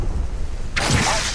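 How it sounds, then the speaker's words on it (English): An arc star grenade is thrown in Apex Legends, a sudden bright whooshing burst of noise cutting in partway through after a quiet stretch of low background rumble. "Throw an arc star."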